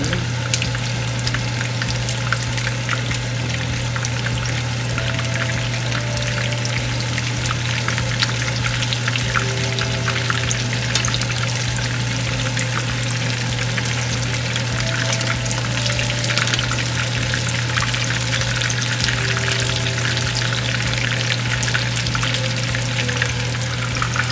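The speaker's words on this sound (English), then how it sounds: "When you see the shrimp curling a little bit like that, it's getting closer to be done." Coconut shrimp deep frying in hot oil, a dense, even crackling sizzle that holds steady and loud throughout, with a constant low hum beneath it.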